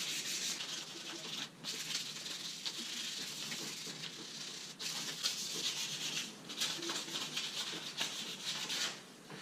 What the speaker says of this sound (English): If you do a good job with the sanding, you're going to get a real nice shine.